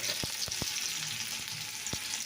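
Chopped onion and chilli sizzling in hot oil in a pan, a steady broadband crackle with a few sharper pops and spatters, close and continuous with no talking.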